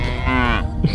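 A cow gives a single loud, close moo, a drawn-out bellow that slides down in pitch, on a farm with livestock.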